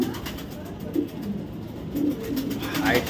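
A white racer female pigeon coos close by, a few low, soft coos spaced across a few seconds, with someone talking over them.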